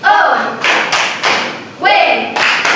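A teacher leads an elementary classroom through the "tepuk wow" clapping chant, with bursts of claps in short rhythmic groups alongside a chanting voice, close and loud.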